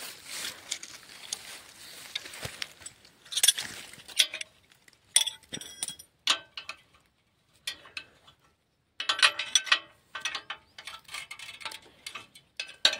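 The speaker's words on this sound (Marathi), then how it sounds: "जेणेकरून आपल्याला नट आवळता येतील." Metal clinks and ratcheting clicks of a wrench tightening nuts on a farm weeder, coming in irregular bursts separated by short quiet gaps, fairly close and faint.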